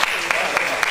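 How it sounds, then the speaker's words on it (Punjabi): Audience applause at a Punjabi stage drama comedy show, a short dense burst of clapping from a seated crowd with a few sharper claps standing out, fairly loud and steady. "ਜ਼ਰਾ ਤਾਲੀਆਂ ਮਾਰੋ"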